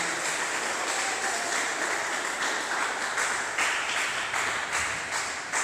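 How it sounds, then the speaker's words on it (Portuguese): Congregation at a church service applauding for Jesus, a dense, steady wash of many hands clapping together, moderately loud and continuous throughout with no talk over it. "dê uma salva de palmas a Jesus"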